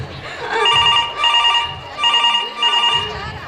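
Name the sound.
telephone ringing unanswered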